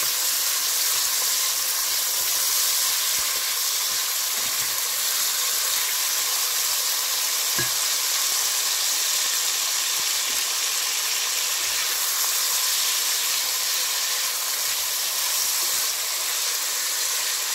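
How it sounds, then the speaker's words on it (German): Chicken breast searing hard in a hot pan, a loud, steady, dense sizzling hiss that holds constant throughout with faint crackles. "kommt unsere Hähnchenbrust rein. Die braten wir ganz scharf an."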